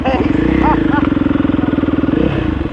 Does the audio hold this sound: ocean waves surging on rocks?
no